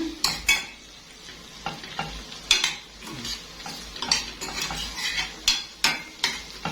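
Alexandrian-style liver, dressed with lemon juice, is stirred in a frying pan: a soft sizzle runs underneath while a utensil scrapes and knocks against the metal in repeated, irregular strokes, close by.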